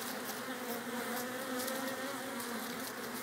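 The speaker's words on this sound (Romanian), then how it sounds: "Au ieșit și aici albine, uite cât au ieșit." Honeybees buzz steadily and densely around an opened beehive frame full of brood, a constant close swarm hum with no voices.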